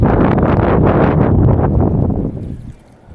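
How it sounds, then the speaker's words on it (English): Strong wind gusts buffet the microphone at a grassy, muddy spring fishing spot, a loud broadband roar that holds steady for two seconds and then drops away. "It's so windy."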